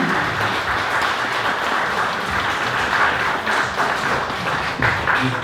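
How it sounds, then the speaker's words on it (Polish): Steady applause from an audience at a ceremony marking the 104th anniversary of Poland's independence in Drohiczyn, dense clapping sustained evenly throughout at close range. "Brawa należą się Wam."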